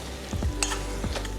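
Laab kai, a Lao minced chicken dish, sizzling in a saucepan with no fat while being stirred, with steady frying hiss and scraping of the spoon against the pan bottom, close and continuous.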